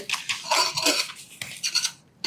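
A grain mix for a nourishing kanji is tipped into a pot of boiling water, a short burst of rattling pour and light metal clinks against the pot, close and fairly loud, ending abruptly.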